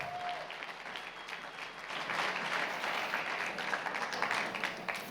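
Audience applause at the Sarasota Tech kick-off event, a steady wash of clapping from a crowd that swells louder after about two seconds and holds, with no talk over it.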